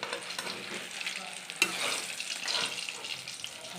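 Eggplant slices sizzle in hot oil in a pan, a continuous close crackle with occasional scraping stirs and a sharp clink near the middle.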